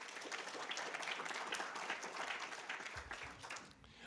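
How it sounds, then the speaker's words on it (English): A museum lecture audience gives a round of applause, steady clapping from many hands in an auditorium, moderately loud and continuous before easing slightly near the end. "Would you mind giving them a round of applause?"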